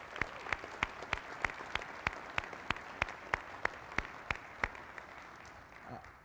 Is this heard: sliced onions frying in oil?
no